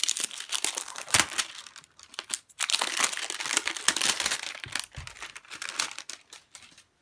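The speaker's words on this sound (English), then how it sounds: "I'm going to go ahead and open the deck here on video for you" A Lovers Oracle card deck gets unwrapped, with close, steady crinkling and crackling of plastic wrap in quick irregular bursts, a few brief pauses, and no talk.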